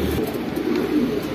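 Fancy pigeons cooing at a pigeon seller's cages, a continuous low, throaty cooing from several birds close by, steady and without speech.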